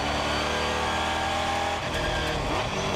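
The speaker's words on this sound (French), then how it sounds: "énorme blocage de roue pour le leader Ferrando au virage de la Chapelle" Race cars lapping a circuit, with one car locking its wheels under braking into a corner; dense, loud engine roar fills the whole stretch, and a brief harsh scrub appears partway through.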